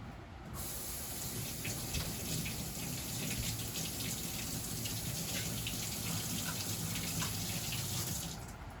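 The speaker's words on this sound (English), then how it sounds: "You rinse out the pot and then I'll get it potted up." A flower pot is rinsed under a running tap while repotting an African violet; water gushes and splashes steadily nearby for several seconds, then stops.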